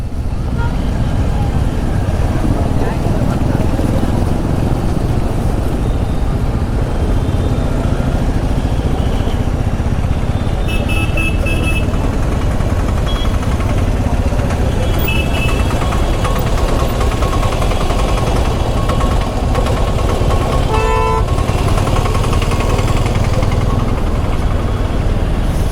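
A Bajaj Pulsar N250 motorcycle engine runs steadily for the whole stretch, a constant close engine drone mixed with road and traffic noise, with someone talking over it.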